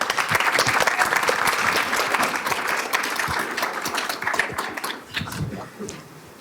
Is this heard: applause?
yes